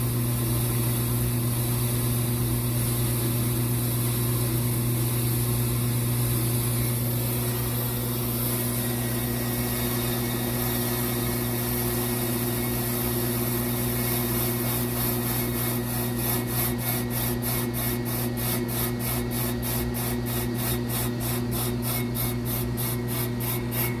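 A brake drum spinning automatically on a mini refacing machine, a loud steady motor hum with a continuous grinding, rasping cut, turning into a rapid rhythmic chatter toward the end, no talking.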